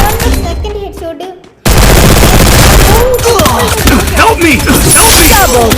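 Rapid automatic gunfire from the Free Fire video game, loud, dense bursts of shots with bright impact sounds, preceded by a quieter stretch with a few isolated pops.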